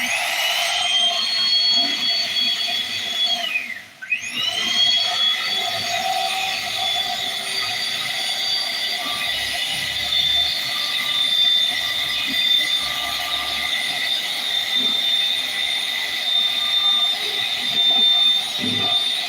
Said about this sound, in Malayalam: മീറ്റർ ഉപയോഗിച്ചിട്ട് ഈ ക്രീം നന്നായിട്ടൊന്ന് പതച്ചു കൊടുക്കാം